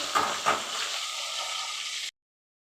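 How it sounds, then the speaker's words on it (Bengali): Sarpunti fish frying in oil give a steady, close sizzle, with a couple of soft knocks at the start, before it cuts off abruptly. "এভাবে সবকটা মাছ আমি ভেজে নেব"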